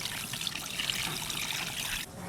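Fried sauce liquid trickles and splashes into a pot of marinated chicken with scallion, ginger and small onions, a close, steady pour that stops abruptly near the end.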